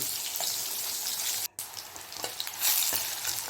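Dried red chillies and onion frying in a pan give a steady close sizzle with a few stirring scrapes and a brief sharp break in the middle, and no voices are heard.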